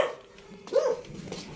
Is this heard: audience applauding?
no